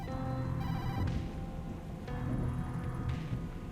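In the video game Tokyo Dark, a phone rings with repeated electronic trills, loud and close, layered over a dense, steady game soundscape.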